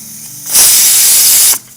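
Pressure cooker with payasam inside lets out a loud, steady burst of hissing steam lasting about a second, starting and stopping abruptly over a faint background hum.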